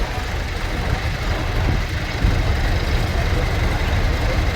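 Loud, steady idle of a Massey 440 tractor fitted with a Ford 5.6 engine at a show, a continuous low diesel rumble close by with no break.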